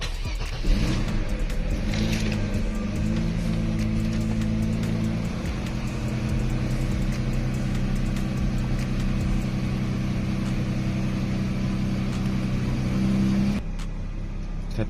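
A Mercedes-Benz E280 engine runs steadily at idle after starting, a loud, continuous low rumble with a constant droning hum that holds for most of the stretch before cutting off near the end.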